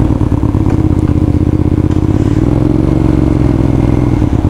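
A Hyosung Aquila 250 motorcycle engine runs steadily up close, a loud throbbing idle with a slight shift in pitch partway through.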